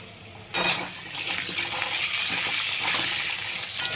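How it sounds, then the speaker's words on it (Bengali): Potatoes dropped into hot oil in a kadai sizzle loudly, a sudden burst of hiss that then settles into a steady, close frying crackle. "আলুটা সুন্দর লাল লাল করে ভেজে নেব"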